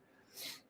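A single sneeze in a room where a Bible study group is talking, a quick burst of breathy noise peaking midway through and fading quickly, fairly faint and heard on its own.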